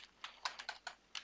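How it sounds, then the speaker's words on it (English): Typing on a computer keyboard, a quick run of about six soft, close key clicks in an uneven rhythm over faint room hush. "Just make sure to type everything like I am here."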